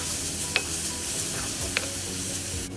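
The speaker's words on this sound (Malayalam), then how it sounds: "അത് നന്നായിട്ടൊന്ന് മിക്സ് ചെയ്യുക." Masala with chopped green chillies being stirred in a pan, a steady soft sizzle with two sharp spoon clinks against the metal, no talking.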